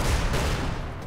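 A burst of gunfire in the video game Magicka, dense and loud, filling the whole moment with rapid overlapping blasts.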